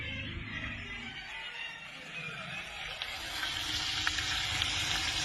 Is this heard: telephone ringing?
no